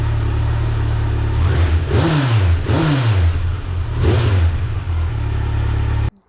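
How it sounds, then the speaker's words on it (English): A 2023 Kawasaki Z900 motorcycle on its stock exhaust idles close by, then revs three times in quick blips that rise and fall before settling back to a steady idle and cutting off. "First, we're going to start off with just a basic, normal stock exhaust."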